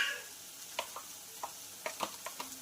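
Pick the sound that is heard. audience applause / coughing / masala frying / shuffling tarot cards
masala frying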